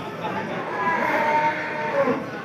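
Limousin cattle at Pasar Paing, a busy livestock market in Pati, low and drawn out over a steady wash of market crowd noise, with no one speaking up close.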